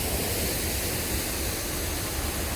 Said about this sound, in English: Just the noise of the water.